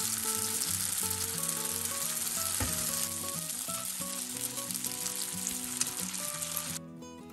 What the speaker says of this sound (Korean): 김부각을 튀기는 시간은 3-40초 정도면 딱 좋습니다.